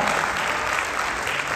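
Sustained, full clapping from a crowd at a real estate success talk, loud and even from start to finish with no voices over it.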